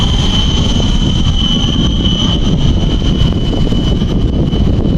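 An airplane near Tacloban airport in the Philippines roars loudly and steadily with a constant engine drone and a sustained high whine, heard close and without speech.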